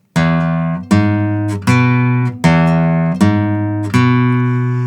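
A Spanish guitar plays a riff of sustained, strongly ringing bass-heavy notes and chords, struck about every second, clear and loud with no one speaking.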